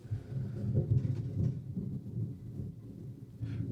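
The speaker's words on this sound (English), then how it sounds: "it has started thundering out here, so you might hear it on the podcast" Low, rolling thunder rumbles outdoors during a storm, a deep continuous roar that swells and fades over several seconds with no voices over it.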